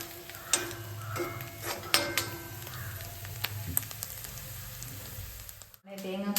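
Coconut pieces crackle and sizzle in a hot pan, with clinking stirring strokes scraping through the steady fry near the mic before a brief silence; faint voices sit under it.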